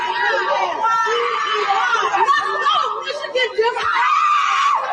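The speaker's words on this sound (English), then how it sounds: "Listen to the screaming." Shrill, sustained screaming from a crowd at a chaotic outdoor gathering, loud and close, mixed with overlapping chatter and snickering laughter.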